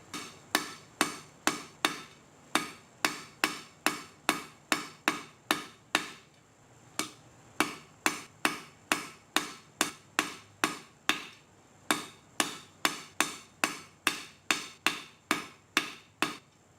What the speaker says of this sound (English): I think I'm going to taper down the end first.